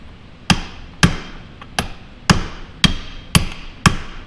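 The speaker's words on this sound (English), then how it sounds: "take that hammer and that drift and just tap the end of that." Seven sharp metallic hammer taps on a drift punch, evenly spaced about half a second apart, close and ringing briefly after each strike.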